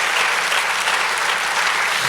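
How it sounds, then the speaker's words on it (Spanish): A church congregation applauds loudly and evenly, a thick wash of clapping from many hands that fills the whole moment without pause. "Dale el mejor aplauso al Señor."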